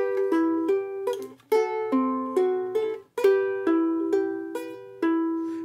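A ukulele plucks the intro notes of a song from Aladdin, each picked note and chord ringing clearly in a steady, rhythmic sequence, solo and close.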